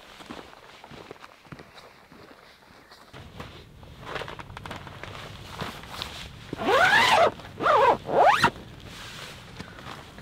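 Zipper on a pop-up photo blind being set up outdoors at dusk for sage grouse photography, three loud rasping zip strokes in quick succession after scattered rustling and footsteps on the ground.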